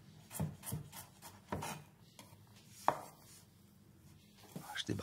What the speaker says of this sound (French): je vais faire une mirepoix, assez fine, avec un éminceur, bien sûr.